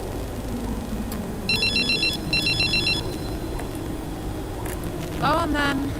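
Repeated electronic phone ringtone bursts in the F1 23 racing game, two short trilling rings followed later by a warbling tone, set over a constant low background hum.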